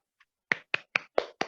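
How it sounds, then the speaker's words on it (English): Five sharp, evenly spaced hand claps ring out close and loud in quick succession after a faint tap, with no talking. "So you must clap for yourself again."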